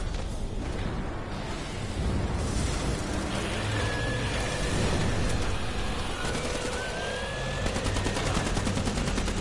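Rapid, dense gunfire from the video game Killing Floor, with shots and bursts running almost continuously and loudly throughout, no clear pauses between volleys.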